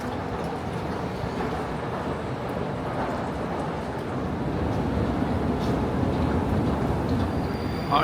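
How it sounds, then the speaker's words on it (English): A Moscow metro train rumbles steadily at Butovskaya station on the dark green line, a loud continuous roar of wheels and carriages with faint rattles and brief squeals, growing slightly louder toward the end. "as we walk through the new Butovskaya metro station on the dark green line"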